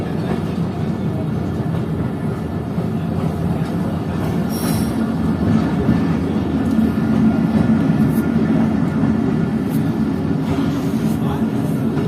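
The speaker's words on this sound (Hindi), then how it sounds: "तो इस वक्त हमारी ट्रेन पहुंच रही है यारू रेलवे स्टेशन पर।" Chaman passenger train, its door battered by thrown stones, rolls steadily along the rails with a continuous low rumble and occasional wheel squeals, heard close from inside the carriage.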